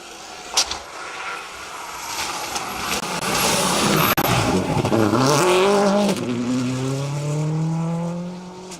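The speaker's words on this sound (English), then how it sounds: "Barry Groundwater showing us how it's done in a Subaru S11. Fantastic to see that car on the stage" A Subaru S11 rally car races loudly along a stage of the Down Rally, its engine roaring as it nears and passes, then revving and falling away into the distance with no talk over it.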